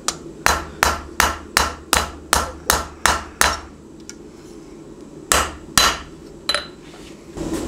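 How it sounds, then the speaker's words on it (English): A hammer strikes a knife tip on an anvil edge during hand forging: about ten evenly spaced ringing blows, a pause, then a few more strikes, close and loud. "I'm bringing it over to the edge so that I can hammer on it and pinch it without risking hitting my anvil a ton"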